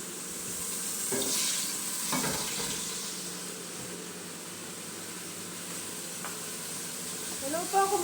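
Lamb hits hot oil for kabsa, and a steady sizzle and frying hiss fills the pan. Occasional stirring scrapes sound close by.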